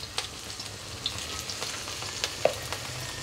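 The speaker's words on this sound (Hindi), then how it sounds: "अदरक भी डाल देंगे और जीरा, सबको एक साथ सौटे कर लेते हैं, और थोड़ी सी हींग" Ginger, cumin and asafoetida sauté in hot oil with a constant close crackling sizzle, broken by light spoon taps and little pops; no speech.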